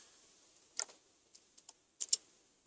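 A few sharp key clicks on a computer keyboard as a command is typed, quiet and close, in uneven bursts with short pauses between them.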